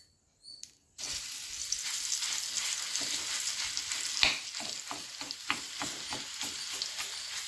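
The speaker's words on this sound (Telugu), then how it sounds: "దీన్ని నేను దీంట్లో వేసి కొద్దిగా వేయించుకుంటున్నానండి." Ground chili paste frying in oil or ghee in a pan for homemade boondi, a steady close sizzle that begins abruptly after a brief quiet start, with occasional louder pops and scraping stirs.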